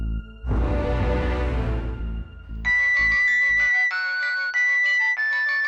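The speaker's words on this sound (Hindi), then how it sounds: "आपका मोबाइल बार बार बज रहा था" A mobile phone ringtone in a Bhojpuri TV serial plays loudly and close, a repeating electronic melody following a burst of busy noise, with no talking.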